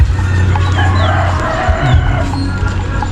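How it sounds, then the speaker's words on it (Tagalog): Chickens cluck nearby amid a busy outdoor din during Christmas preparations, with a dog's bark and other fowl calls mixed into the steady background noise. "Ito guys, kinuha ko mayroong manok."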